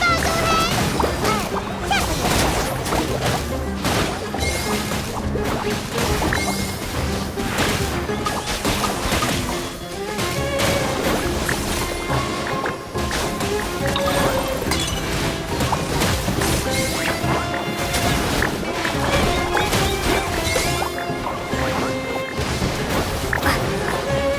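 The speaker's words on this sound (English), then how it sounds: "Use your happy, clappy water balloons" Water balloons smash and splat in a video game battle, a dense, loud, continuous clatter of hits and crashes layered over busy game music with no pauses.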